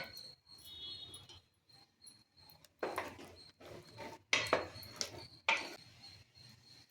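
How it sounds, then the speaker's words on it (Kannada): Lid of a pressure cooker holding kabul channa, released after its pressure has gone, being worked open in a home kitchen with a few sharp metallic clanks and scrapes, near and moderately loud, with quiet stretches between. "ಪ್ರೆಸರ್ ಎಲ್ಲ ಈಗ ಹೋಗಿದೆ ಈಗ ತೆಗಿತಾ ಇದ್ದೀನಿ"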